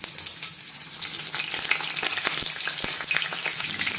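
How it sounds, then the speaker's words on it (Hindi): Cauliflower hits hot mustard oil in a kadai: a quieter start, then a loud, busy frying roar with sharp pops and crackles scattered over a continuous sizzle, no speech. "कढ़ाई में सरसों का तेल हमने डाल लिया है, जो कि गरम हो गया है। तो इसमें सबसे पहले हम गोभी डाल देंगे।"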